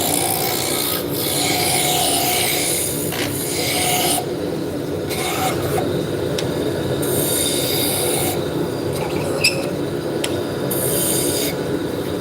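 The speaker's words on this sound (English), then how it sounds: "So we're starting out with the roughing gouge." A wood lathe spins a spindle blank for furniture or banister work while a roughing gouge cuts it, giving a continuous loud scraping, rasping hiss that swells and eases as the tool bites, with no talking.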